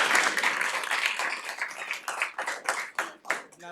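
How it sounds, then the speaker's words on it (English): An audience applauds student teams at a pitch competition, dense clapping at first that thins into scattered, separate claps as it dies away. "So let's give them a round of applause as well."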